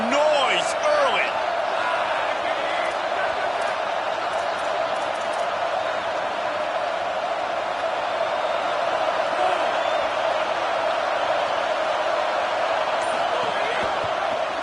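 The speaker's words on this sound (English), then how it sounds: "This crowd bringing the energy and noise early." Football stadium crowd roaring and cheering early in the game, a dense, loud, sustained wall of noise with a commentator's voice over it.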